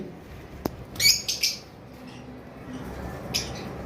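Lutino red-eyed pet birds at a bird farm give a few sharp squawks and chirps over a steady low background hum, the calls coming in short bursts at moderate distance.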